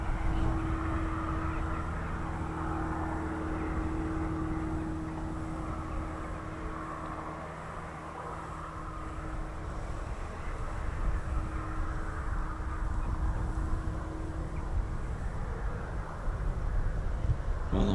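An RAF F-35 Lightning jet takes off at Marham, its engine a steady, distant low roar that holds for the whole stretch without any voices.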